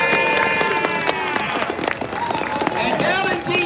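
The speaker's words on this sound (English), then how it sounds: "Marty Goodman, give him a round of applause." Applause from a crowd at an outdoor street rally outside the British Consulate in New York, supporters clapping steadily throughout with scattered voices and whoops mixed in.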